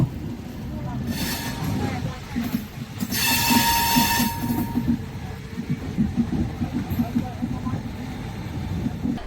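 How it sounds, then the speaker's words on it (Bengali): The Howrah–Mumbai CSMT Mail (12810) pulls out of Raipur Junction, heard from on board: a steady rumble of rolling wheels and carriages, with bursts of hiss and squeal, and voices faintly underneath. "হল্ট দিয়ে কিন্তু রায়পুর জংশন থেকে কিন্তু ছেড়ে দিচ্ছে ট্রেন আমাদের"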